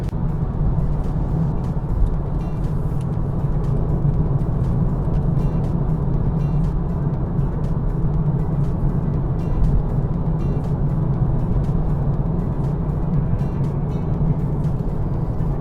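A 2023 BMW G42 220i being driven hard produces a steady, loud low engine and road drone that holds throughout with no talking.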